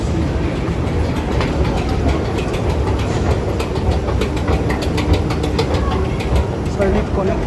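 A metro train on the rails at a busy station on a weekday, a loud, continuous rumble with rhythmic clicking and rattling, close by, with people talking underneath.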